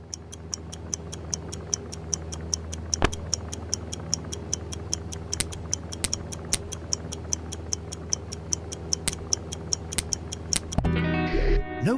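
A ticking bomb in the I Expect You To Die VR game gives off steady, evenly spaced clock-like ticks for about eleven seconds, then stops abruptly, with a faint hum underneath.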